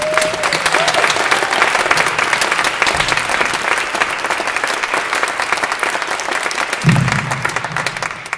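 A theater company audience at a church event breaks into loud, sustained applause, dense clapping that carries on evenly for several seconds, with a brief voice cutting through near the end.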